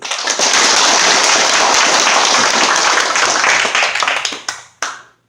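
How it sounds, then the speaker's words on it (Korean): A crowd at a Vietnam War veterans' association meeting claps steadily in a dense, loud burst of applause that tapers off and ends with a few final claps. "우선 먼저 큰 박수로 환영해 주십시오"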